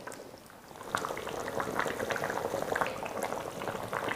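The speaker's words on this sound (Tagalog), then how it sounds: "kailangan pa natin itong pakuluan ng dahan-dahan hanggang sa lumambot na ng tuluyan yung beef" Beef simmering slowly in a pot makes a continuous bubbling boil with dense, irregular pops that grow a little louder after the first second, close and steady with no talking.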